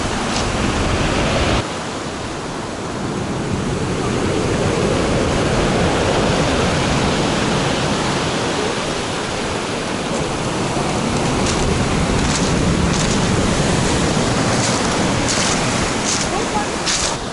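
Loud, continuous roaring surf and wind noise from a stormy Black Sea at Adler, Sochi, broadband and unbroken, with no talking.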